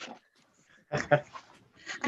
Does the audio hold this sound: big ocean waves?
no